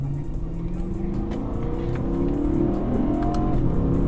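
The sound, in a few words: BMW M3 accelerating and shifting gears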